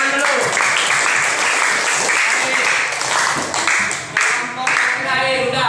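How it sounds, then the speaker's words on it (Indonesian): A class applauds a student group in a school lesson, loud dense clapping that rolls on without a break, briefly dipping near the end. "Ayo tepuk tangan dulu."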